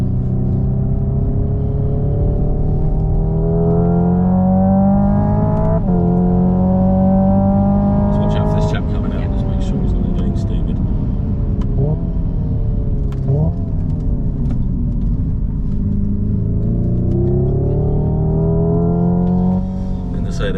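Hyundai IONIQ 5N electric car lapping a race track, a loud close synthetic engine-like drone rising and falling through simulated gear shifts, with sharp shift breaks and continuous tyre and road rumble underneath.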